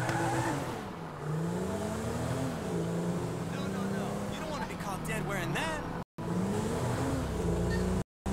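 A car driven around a city block in Grand Theft Auto V, its engine humming steadily and rising in pitch as it accelerates, with voices talking over much of it.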